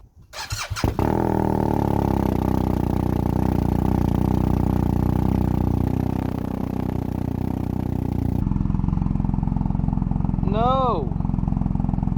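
A BMW R1250R motorcycle with an SP Engineering Diabolus oval exhaust fires up for the first time, catching with a loud burst and then idling high and steady. Near and loud throughout, with a brief voice heard over the running engine near the end.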